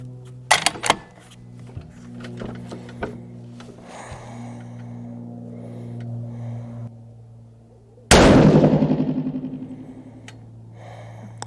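A single 6.5 PRC rifle shot loaded with Vihtavuori N565 powder, one sharp loud blast outdoors that rolls into a long, fading echo over several seconds, preceded by a few faint clicks and a low steady hum.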